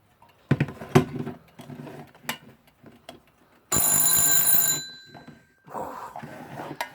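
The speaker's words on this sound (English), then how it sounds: "Let's hear the alarm." A wound-up Metamec electric clock's alarm rings once, a loud, sustained bright metallic bell burst lasting about a second, preceded by soft handling clicks and knocks and followed by brief rattling.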